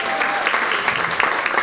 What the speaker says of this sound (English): Let's hear it for France and England,